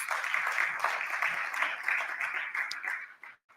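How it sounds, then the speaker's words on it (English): Audience members at the INSETA annual general meeting clap in a dense, even burst of applause that holds for a few seconds, then tapers off abruptly. "I think we deserve a round of applause."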